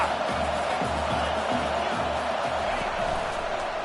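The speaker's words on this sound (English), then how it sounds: "It is getting loud as this crowd tries to help its defense." A stadium crowd in an NCAA 25 college football game sends up a steady, dense wash of roar and cheering, loud and unbroken throughout.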